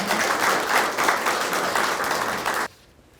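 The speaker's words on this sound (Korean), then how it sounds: "큰 박수로 맞이하겠습니다" A roomful of people claps steadily to welcome a city councillor stepping up to give a congratulatory speech at a reinstatement welcome ceremony. The dense, even applause runs loud for a few seconds, then stops abruptly, leaving near silence.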